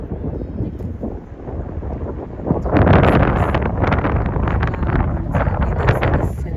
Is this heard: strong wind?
yes